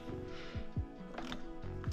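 A ratchet tightening a bolt during a hybrid turbo install on a GLI: a few quick clicking strokes in short bursts with mechanical creaks between them, close and fairly quiet, with nothing spoken.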